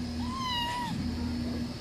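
A Persian cat in a shop gives a single clear, drawn-out meow close by, rising and falling briefly before quiet room sound resumes.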